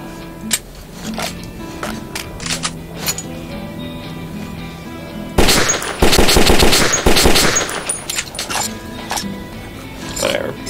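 Loud, rapid bursts of automatic fire crack out at a firing range of target dolls in the video game Metro 2033, following scattered single shots over a low ambient hum.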